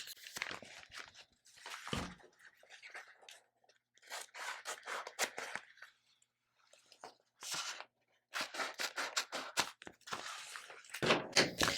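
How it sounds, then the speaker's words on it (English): Scissors cut through clear contact paper used as transfer tape, making crisp snipping and crinkling bursts in irregular clusters with short pauses, heard close and fairly quiet. "So now I'll cut a piece of transfer tape."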